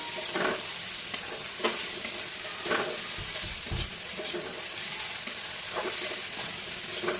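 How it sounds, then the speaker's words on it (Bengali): Soybean chunks frying with spices in a pan give a steady, even sizzle, with occasional stirring scrapes and a couple of low thumps. "দেখুন বেশ কিন্তু ভাজা ভাজা হয়ে আসছে"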